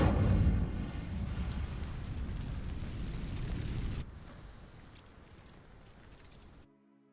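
In the Hogwarts Legacy video game, the Incendio spell sets dry vines alight with a loud roaring burst of fire that crackles and rumbles, then fades away into quieter burning before cutting off.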